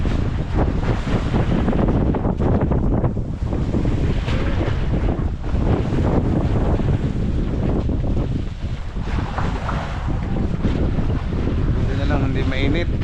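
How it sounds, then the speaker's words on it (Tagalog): Strong wind roars steadily across the microphone far out at sea aboard a fishing boat, a loud continuous rush with water and hull noise underneath, no voices. "Dinig na dinig yung hangin dito sa laot."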